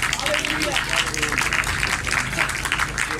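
Worshippers at a pastor's church service clap together in a sustained, even wash of applause, with voices blending through the crowd noise.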